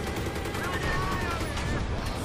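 A main battle tank's light machine gun rattles in Battlefield 3, a sustained rapid burst of gunfire that stays loud and dense for the whole stretch, with a voice talking underneath.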